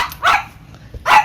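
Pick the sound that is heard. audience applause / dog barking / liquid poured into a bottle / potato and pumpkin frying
dog barking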